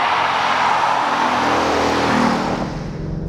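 A Ford Mustang GT pushed hard through corners, its engine a steady loud roar from inside the car, rising and holding with a faint edge of tyre noise and no talking.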